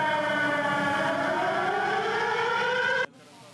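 A loud air raid siren on a building in Ukraine wails steadily, its pitch slowly rising, then cuts off abruptly near the end, leaving quiet background.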